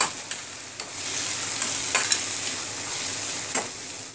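Tomatoes fry in a pan for a dry nathli curry, giving a steady close sizzle with a few sharp clicks of stirring scattered through it.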